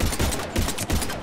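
Gunfire in the video game Mass Effect 3, rapid sustained bursts of loud automatic shots crackling close by without pause.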